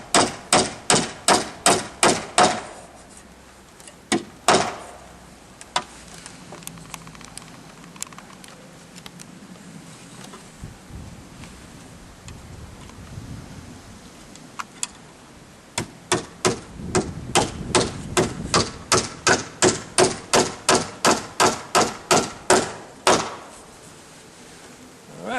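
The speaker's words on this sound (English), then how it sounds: "I managed to get another nail in here" A hammer drives nails into a metal mending plate on a deck roof frame, with sharp ringing blows in quick bursts, a pause with some shuffling in between, then a long steady run of strikes.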